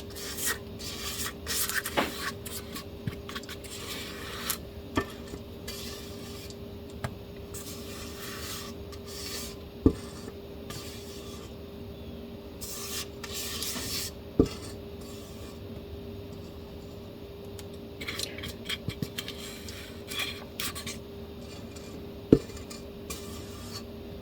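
A spatula scrapes carrot cake batter from a mixing bowl in a home kitchen, a steady close rubbing and rasping with a few sharp taps against the bowl, without talk.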